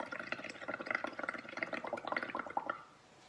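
Air blown through a straw into paint water makes a rapid, close bubbling gurgle that churns steadily for under three seconds, then stops abruptly.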